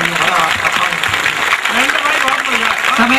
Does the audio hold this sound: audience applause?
yes